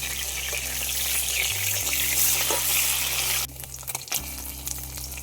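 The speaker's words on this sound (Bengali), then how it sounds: "মাছটা ভাজা হয়ে গেছে" Katla fish frying in hot oil in a pan, a loud, steady crackling sizzle that drops in level partway through, with a brief clatter near the end.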